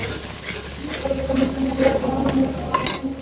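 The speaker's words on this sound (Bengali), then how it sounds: "এখন একটু নেড়ে ছেড়ে দিচ্ছি কারণ যাতে মিশে লেগে না যায়" Coriander powder, turmeric and other spices stirred in a cooking pan for a chicken and potato curry, with close scraping stirs and light clinks of the utensil against the pan over a faint sizzle.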